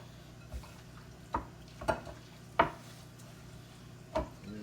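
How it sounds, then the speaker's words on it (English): Crab meat is gently folded with breadcrumbs in a bowl, giving a handful of soft, widely spaced taps and squelches that stay quiet and close, with no talking. "I say, you just want to gently mix it here"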